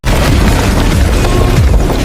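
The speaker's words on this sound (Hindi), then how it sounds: "जादूगर ने दीवार पर बॉम्ब बनाकर धमाका किया।" A bomb detonates against a wall in the film Beetlejuice Beetlejuice, a loud sustained deep boom that rumbles continuously through the whole moment with no speech.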